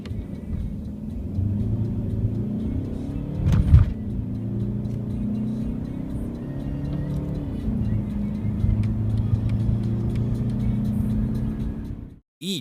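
A Mercedes W212 E-Class accelerating from 0 to 100 km/h, a steady engine drone rising through the gears from inside the car, one brief bump partway through, ending abruptly.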